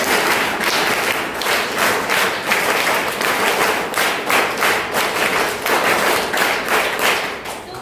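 Schoolchildren at a government higher primary school in Banahalli clap together in a steady, even rhythm, many hands striking in unison, loud and close, with barely any talk.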